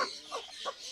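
A Golden Sebright hen clucks faintly a few times in quick succession, close but quiet, with no voices present.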